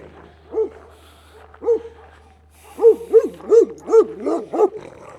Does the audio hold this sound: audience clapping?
no